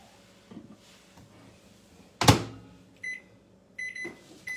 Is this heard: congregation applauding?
no